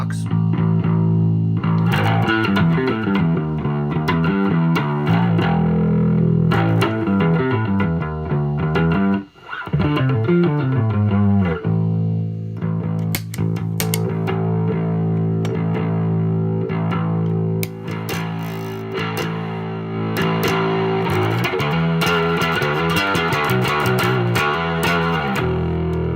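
Electric guitar through a handmade, modified Tube Screamer overdrive pedal playing sustained, gritty chords and riffs, thick and loud throughout, with a brief dip midway.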